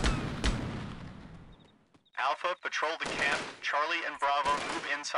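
Gunfire in the video game Delta Force: a sharp shot at the start over rumbling noise, then rapid bursts of automatic fire with echoing cracks, loud and close, with someone speaking between them.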